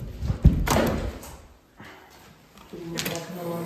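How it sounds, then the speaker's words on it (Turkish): A door shuts with a firm thump at the start, followed by rustling handling noises in a room, then voices talking near the end. "Kapıyı kapatayım mı?"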